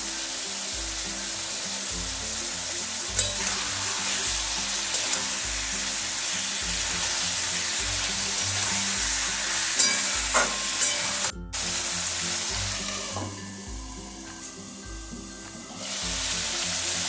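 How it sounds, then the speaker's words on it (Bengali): Chicken pieces with salt and turmeric sizzling over a high flame as they are stirred, a continuous loud frying hiss with rhythmic scraping of a spoon against the pan, briefly cutting out and then resuming. "এরপর চিকেনটা হাই ফ্লেমে নাড়তে থাকবে।"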